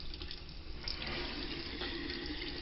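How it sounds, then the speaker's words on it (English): A sink tap runs warm water in a steady, close, continuous rush, used for washing a vinyl record, with no voices. "So we got our sink here, and put it on warm water."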